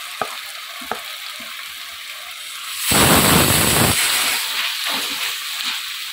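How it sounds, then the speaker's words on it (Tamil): Sliced onions sautéing in a pan for a Tamil home recipe: a quiet steady sizzle with a couple of small clicks, then a loud surge of hissing frying for about a second before it settles into a continuous close sizzle. "இது நல்லா வதங்கட்டும்."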